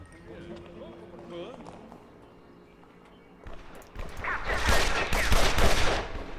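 Gunfire from guards in the video game Evil Genius erupts as a loud burst of rapid shots in the second half, following a quieter stretch of game sounds and someone talking.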